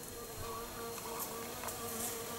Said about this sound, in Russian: Пчела жужжит.